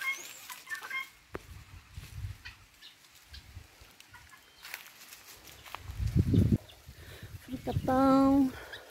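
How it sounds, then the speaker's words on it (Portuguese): Chickens clucking in a backyard among fruit trees, with scattered soft clucks early on and louder, closer bursts of clucking and cackling near the end, mixed with light background noise and some talk. "E as galinhas, ó."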